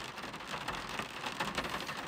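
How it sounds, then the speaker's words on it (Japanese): Steady rain falls outdoors on an April day, a dense, even hiss of drops on surfaces with no talking. "雨が昨日も今日も降ってるよ。"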